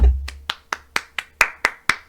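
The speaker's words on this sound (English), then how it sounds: "Round of applause." Eight sharp hand claps, about four per second, close and fairly loud, from a livestream host cheering a creative jam win from Adobe.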